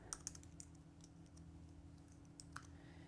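Keys on a computer keyboard click softly and quietly in short irregular runs while a name is typed in Canva design software, with no voice over them.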